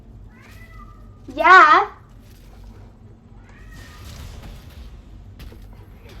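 A pet cat gives a single clear, fairly loud meow close by, set over a steady low background hum, with a brief spoken word afterward.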